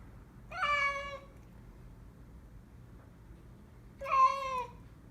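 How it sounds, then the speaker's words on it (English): A small stray cat meows twice, each cry clear, close and drawn out, with a few seconds of quiet between them over faint background hiss. "This is a new little cat that's been coming around."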